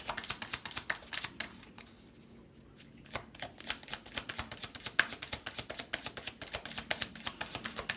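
Tarot cards shuffled by hand for a reading, a steady run of crisp riffling slaps that pauses briefly and then resumes in a quick, even rhythm, close and fairly soft.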